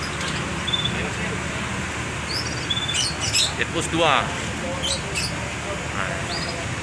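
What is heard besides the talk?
pet canary chirping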